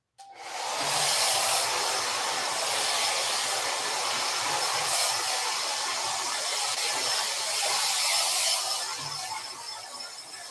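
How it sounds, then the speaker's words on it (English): A hair dryer blowing on a freshly painted canvas starts abruptly and runs as a loud, steady, close whooshing hiss for about ten seconds, with a slight fluctuation near the end. "I'm going to do a little blow drying now because I don't want the yellow to show anymore. So I'm just going to do a quick hair dry here."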